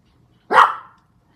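A single sharp dog bark, close and loud, rising quickly and trailing off in under half a second against near silence.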